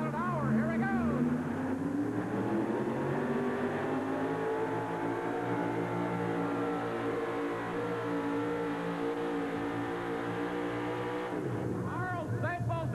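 An injected Chevrolet drag racing engine roars off the line at high revs, its loud pitch climbing and sweeping steadily upward, with a commentator's voice over the noise.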